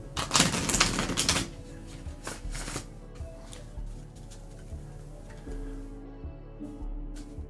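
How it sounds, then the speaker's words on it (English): Tarot cards being shuffled in repeated riffling bursts, loud at first and then lighter, continuing steadily with soft ticking card clicks and no talk. "Basically, the shuffling,"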